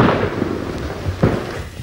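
German Panzer fire pounding American tanks: a steady rumbling barrage with two sharper bursts standing out, one faint near the start and a louder blast past the midpoint, over continuous low battle noise.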